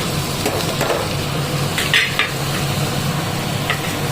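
Cabbage being stirred and sautéed in oil with tomatoes in a pan, a steady close sizzle with a few sharp metallic scrapes and clinks of the spoon against the vessel.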